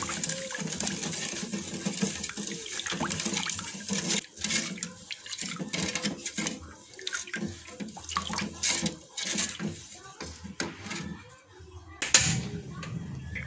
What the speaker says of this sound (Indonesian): Bila sudah, lalu tambahkan air sebanyak 900 ml.